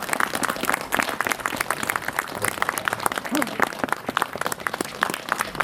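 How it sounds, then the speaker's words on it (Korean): Audience applause at the opening ceremony of the Gocheong memorial hall, a steady wash of many hands clapping through the whole stretch, with a voice speaking over it. "큰 박수로 환영합니다"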